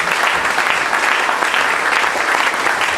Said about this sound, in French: give the Lord a clap of it